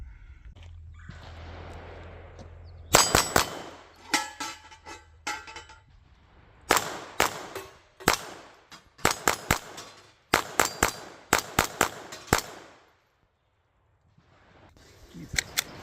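Pistol shots from a CVLIFE Wolf Covert pistol with an RMR red dot, fired at steel targets 15 yards away: a dozen or so sharp, loud cracks in uneven bursts with pauses between strings, each followed by a ringing metallic clang.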